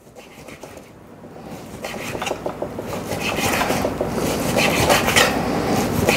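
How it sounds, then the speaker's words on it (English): Salt cod is cut into strips on a board with rough, close scraping and rubbing strokes that build in loudness, with occasional light utensil knocks. "all I'm really gonna do with this is cut it into strips"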